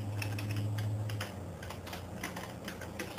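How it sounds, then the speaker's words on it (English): Keys tapped on a computer keyboard, a quiet run of close, irregular clicks over a low background hum. "I'm just going to click on my font and I'm going to add some text. And I want to type in here"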